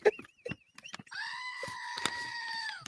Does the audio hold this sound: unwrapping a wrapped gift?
no